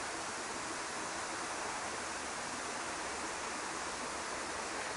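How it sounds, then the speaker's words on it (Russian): A waterfall near Lazarevskoye cascades down in steps, a steady, dense roar of rushing water heard up close and unbroken from start to finish, with no voices. "То есть тут прям каскадами он падает."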